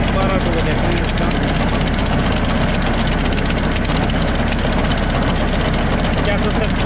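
A 1998 Massey Ferguson 35 tractor engine runs at 1200 RPM during a PTO check, a loud, steady diesel drone with rapid knocking pulses that holds unbroken throughout.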